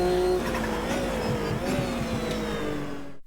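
A Porsche 962 Group C race car in Automobilista 2 roars at close range, its engine note rising and falling with tires squealing, loud and continuous before cutting off abruptly at the end.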